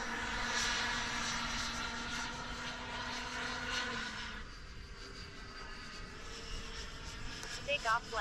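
Boomerang RC Mini Viper model jet airplane flying at half throttle during its maiden flight, a steady whining engine tone that fades as the plane moves away, with a person talking throughout.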